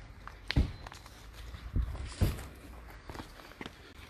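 Footsteps of a few people walking off on foot outdoors near a car blocked by a barrier, several distinct close steps spaced irregularly with a faint background hum.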